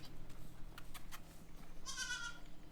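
Goats on a farm bleat briefly at feeding time, a faint cry near the end over soft clatter and background noise, no voices heard.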